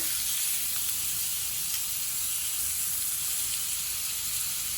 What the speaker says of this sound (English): I'm just going to continue to flip it until all sides are nice and brown